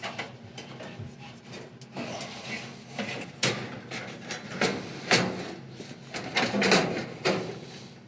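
Metal housing of an electric dryer's heating element being swiveled and pulled straight out, giving a run of close scraping, rubbing and knocking sounds with a few sharper clunks, no talk.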